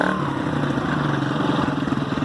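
A barn find dirt bike runs after a throttle cable fix, its engine idling and revving close by with a steady, slightly clattery pulse.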